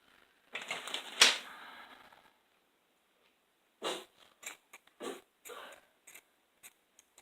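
Scissors trimming loose pieces from a Dollar Tree craft project, heard as a short rustling burst followed by a series of crisp, separate snips spaced irregularly, close and fairly quiet with no talking.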